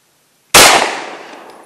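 A single sharp 9mm pistol shot from an M&P Shield fired into ballistic gel outdoors, loud and close, with a short ringing decay after a moment of silence.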